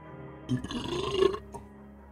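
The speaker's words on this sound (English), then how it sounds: "Sorry, I'll try not to burp too much." A man burps once, a loud, drawn-out, close belch of about a second with a gurgling rasp, standing alone without speech.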